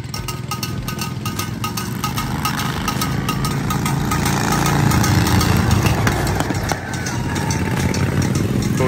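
A tractor engine at a dirt racing event rumbles steadily and loudly throughout, a low mechanical drone with a slight swell in the middle.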